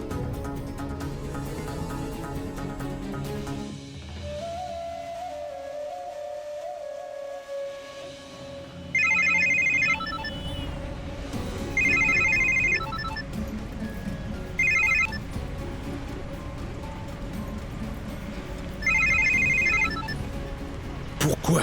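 A telephone rings in four short electronic trilling bursts spaced a couple of seconds apart, sitting clearly over a dramatic musical score at a home setting.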